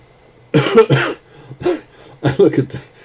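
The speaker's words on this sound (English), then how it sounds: "I'm coughing and choking" Several harsh, close coughs in quick bursts, with short pauses between them.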